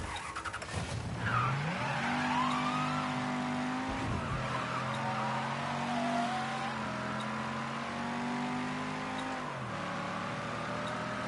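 A car in the video game Mafia 3 revving, accelerating and skidding with tire squeal, the engine note rising and dropping through several gear changes, loud and close with no talking.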